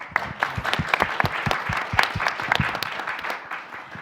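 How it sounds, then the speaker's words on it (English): Moderate applause from a small audience at a policy panel event, separate claps audible within the patter, steady for a few seconds before tapering off toward the end. "Let's give them a round of applause."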